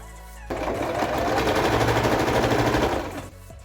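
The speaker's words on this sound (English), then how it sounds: "I'm just going to take this to the sewing machine and sew" Sewing machine stitching denim in one continuous burst of rapid mechanical stitching for about two and a half seconds, close by, with quiet pauses before and after.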